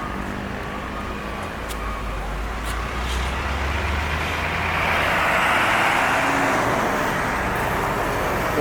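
A Sembodo bus pulls away from the ticket office in Padang, its engine a steady low rumble that swells slightly as it moves off amid nearby traffic noise.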